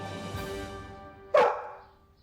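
A dog, presented as a German army dog in a comic historical sketch, gives a single sharp bark that rises out of quieter background noise and fades away.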